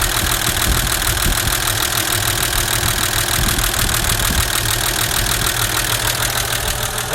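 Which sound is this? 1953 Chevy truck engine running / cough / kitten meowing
1953 Chevy truck engine running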